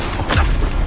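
A single heavy magical slam from the Descendo spell in Hogwarts Legacy, a short booming thud with a crashing burst in the middle of the moment, loud and close.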